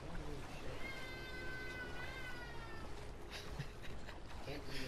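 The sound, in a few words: cat meowing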